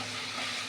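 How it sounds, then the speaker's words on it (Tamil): Sliced radish rounds tipped into a pan of frying tomatoes, giving a steady close sizzle and light stirring noise throughout. "இப்போ ரவுண்ட் ரவுண்டாக நறுக்குன முள்ளங்கியும் போடுறேன்."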